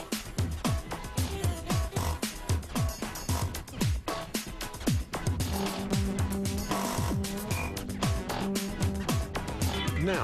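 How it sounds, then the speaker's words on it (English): A drum sander smooths the surfaces of a wooden skateboard deck in a factory, giving repeated rising and falling grinding whirs as the board is pushed against the drum, loud and close over a constant machine drone. "Then they smooth all the surfaces against a drum sander."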